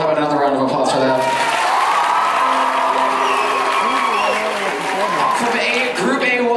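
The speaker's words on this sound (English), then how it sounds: "How about another round of applause for them?" Audience applause and cheering at a youth leadership congress, a loud dense crowd clapping with whoops and shouts sustained throughout, with voices mixed into the roar.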